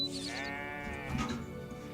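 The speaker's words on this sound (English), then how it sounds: "Let me finish milking the goat." A goat in a video game gives a drawn-out, wavering bleat while being milked, loud and close, with no talking over it.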